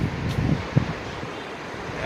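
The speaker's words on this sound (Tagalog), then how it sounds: "Sobrang lakas ng hangin." Strong wind gusts buffet the microphone during a dark sand and rain storm in the UAE, a continuous low roar with a few thumps and flutters.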